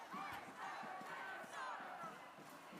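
Large protest crowd in Minneapolis in bitter cold, a dense, continuous roar of many voices shouting and chanting together, loud and sustained.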